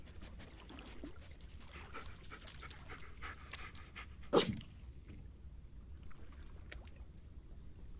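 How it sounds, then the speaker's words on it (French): A dog pants in Blair Witch, quick rhythmic breaths heard close but quietly over dull ambience, with one sharp louder sound cutting in midway. "Ça c'est le chien."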